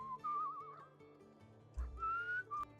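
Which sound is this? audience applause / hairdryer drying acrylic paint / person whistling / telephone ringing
person whistling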